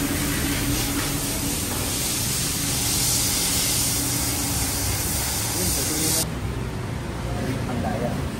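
An aerosol can of cleaner sprays to flush a car's AC evaporator, a loud continuous hiss that holds steady before thinning to a lower wash near the end, with someone speaking over it.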